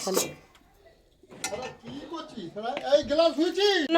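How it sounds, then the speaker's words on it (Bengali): Metal kadai clanks as it is lifted off the stove and covered with a lid in a home kitchen, a sharp clatter at the start and a few knocks, with people talking over most of it. "চল কড়াটা নামিয়ে সেদিকে চাপা দিয়ে দে"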